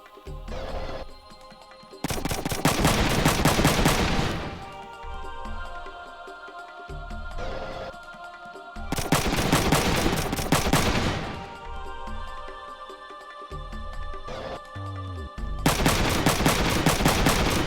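Bursts of machine gun fire strike turrets in the video game Front Mission 3, coming as several loud, dense sustained volleys separated by quieter gaps with lingering rumble.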